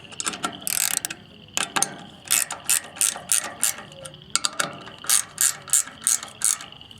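A ratchet wrench with a 10mm socket tightens the nuts on a replacement trailer tail light, giving rapid bursts of clicking pawl strokes in an uneven rhythm with short pauses between runs, close and clear.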